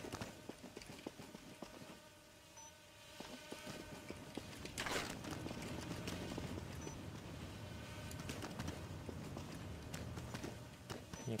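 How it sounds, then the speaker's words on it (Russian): Rapid footsteps in the third-person shooter Total Lockdown form a quick, steady tapping rhythm that continues throughout over a busy background of game noise. "потому что я слышу шаги"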